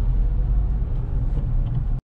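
Steady low road rumble of local single-road traffic from inside a 2023 Renault Kiger on a Lucknow to Patna trip, a continuous engine and tyre drone that cuts off abruptly at the end.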